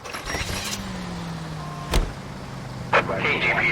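Car interior in the detective game L.A. Noire: a low engine hum under a rising motor whine, with a sharp thump near the middle and another knock later, steady and close.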